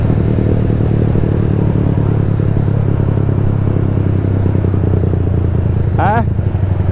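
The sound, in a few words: motorcycle engine with Orion muffler running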